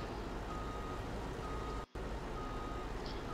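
Reversing beeps sound from a tractor backing up to a flatbed transport trailer in a Farming Simulator game. A steady run of close, repeating beeps rides over a loud, constant engine drone and cuts out for a moment partway through.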